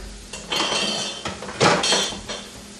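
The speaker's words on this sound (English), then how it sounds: "Just a stir. But I'm going to use a slotted spoon so that I don't get all the bacon grease in there." A slotted spoon stirs stew in a metal pot, scraping and clinking against the sides in a few uneven strokes, close and fairly loud, with no one talking.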